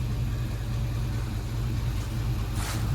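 A 1955 shop truck's engine runs steadily and close by, a continuous low rumble with a brief rise near the end and no talking.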